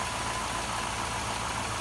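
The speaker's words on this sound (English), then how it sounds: "It's quiet. I don't know what else you want out of an engine for that many K" A high-mileage engine of about 4.25 litres, bound for an S10 pickup, idling quietly with a steady, even hum and low rumble, close by and alone without talk.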